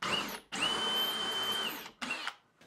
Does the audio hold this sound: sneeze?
no